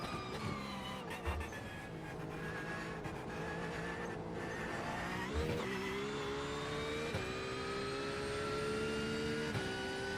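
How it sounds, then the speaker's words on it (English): GT3 race car on track in iRacing at the Nurburgring, with a steady loud engine drone and revs rising and falling, plus brief thumps as the axle locks; no talk. "You can hear when that axle locks."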